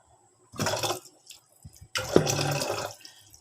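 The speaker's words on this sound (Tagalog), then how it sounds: "Ito ay lagyan natin ng konting tubig." Water poured into a pan of small bisugo fish seasoned with salt and sampalok sinigang mix, heard as two short splashing pours close by, the second longer and fuller, with a quiet gap between them.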